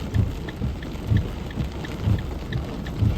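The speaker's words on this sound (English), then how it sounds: "Hail here in Florida." Hail pelts a car windshield during a Florida storm, a dense steady rattle with low rumbling thumps recurring about once a second, loud and close, no voices.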